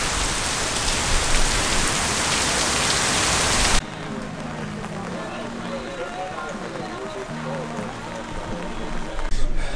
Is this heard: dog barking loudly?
no